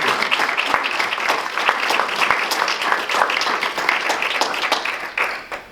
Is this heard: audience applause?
yes